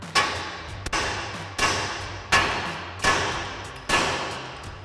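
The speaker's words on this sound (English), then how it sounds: "grab our hammer and give our knuckle a few taps here to separate that ball joint" A hammer strikes a Ford F-150 steering knuckle to separate the ball joint, giving five or six sharp metallic taps at roughly even intervals, each ringing briefly, close and clear.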